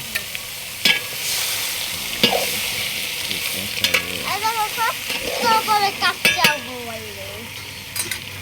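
Meat sizzles while being stirred in a pan in a village kitchen, with scraping spoon clatter and crackling over the frying, and voices talk and call out throughout.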